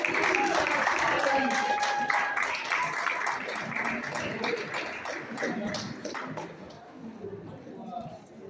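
Applause for the New York City comptroller at a community iftar in Astoria, Queens: a dense wash of clapping from a crowd that slowly thins and fades, with voices mixed in.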